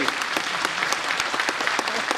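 A crowd at the College of Forestry in Ranichauri claps loudly, a dense continuous roar of applause with crisp individual hand claps throughout, close and full.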